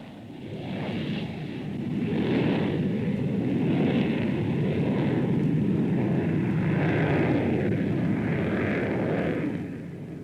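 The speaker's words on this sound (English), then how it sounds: "A beast with deadly grace, the Vulcan can reach almost the speed of sound." An Avro Vulcan jet bomber flying past at an air pageant, its engines roaring loudly and continuously for the full stretch, rising and swelling as it passes, with no talk.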